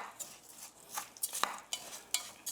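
A utensil scrapes and clinks against a pot while chopped garlic is stirred, a series of faint, irregular scrapes and taps with quiet gaps between them.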